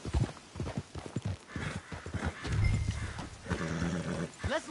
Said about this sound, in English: Let's leave the horses off the road to the right here.